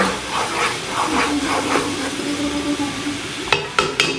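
Butter browning in a pan for a garlic Dijon steak sauce sizzles with a steady, fairly loud hiss, followed near the end by a few sharp clinks of a utensil against the pan.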